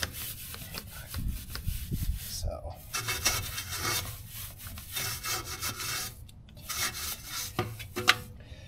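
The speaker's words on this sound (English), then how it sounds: "I'm using this Easy Detail brush" A detailing brush scrubs a hammered-finish wheel on a GLK, making close, uneven bristly scratching in bursts with brief pauses, fairly quiet and with no talk.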